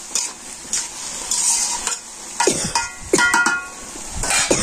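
Turmeric and chili powder frying in a pan crackle and sizzle as a utensil stirs them, with repeated scraping strokes over a steady background hiss.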